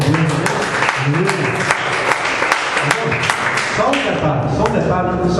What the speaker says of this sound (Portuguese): E que as palmas louvem a Deus.